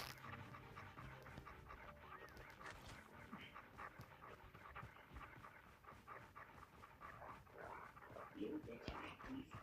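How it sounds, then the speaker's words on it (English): Attack dogs in a video game pant heavily and rhythmically, with whimpers and occasional barks, under players talking over voice chat. "Release the dogs."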